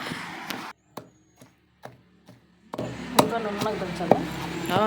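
Raw green mangoes pounded by hand, several sharp, evenly spaced thuds in a quiet room, then more pounding continues under people talking nearby.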